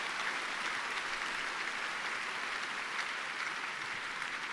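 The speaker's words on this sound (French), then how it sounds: "Donnez une grande offrande d'acclamation au Seigneur." A church congregation applauds as an offering of acclamation to the Lord, a faint, steady wash of distant clapping with no breaks.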